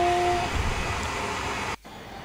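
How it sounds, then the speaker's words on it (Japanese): Steady broadband rumble of a limited express train passing close by, a constant roar that cuts off abruptly near the end, leaving quieter background. "特急電車だよ。"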